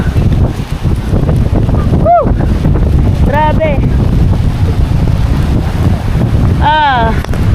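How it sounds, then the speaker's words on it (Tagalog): Strong typhoon wind roars by the sea, a loud continuous buffeting gust that batters the microphone, while a voice briefly exclaims over it. "Sobrang lakas na po ng hangin."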